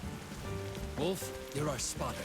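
Steady rain falls in the Arena Breakout military survival shooter on mobile, a soft continuous patter under voices talking.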